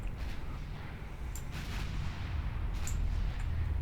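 Naval guns, including 10-inch guns, fire in the naval battle game Ultimate Admiral Dreadnoughts: deep rumbling booms roll on continuously, with a few sharper distant reports breaking through.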